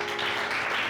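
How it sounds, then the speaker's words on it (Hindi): Students applauding in a college classroom, a brief dense burst of clapping filling the whole short moment. "अभय के लिए तालियां बजाओ"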